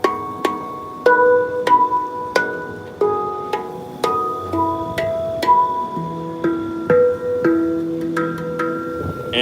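Handpan played by a busker outdoors in a park, a steady stream of ringing struck metal notes, each with bright sustained overtones layered over the fundamental, melodic and moderately near with faint background ambience.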